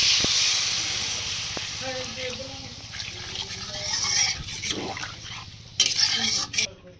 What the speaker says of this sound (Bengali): কলা আলুগুলো কিন্তু প্রায় ঠিক হয়ে গেছে, অল্প করে জল দেবো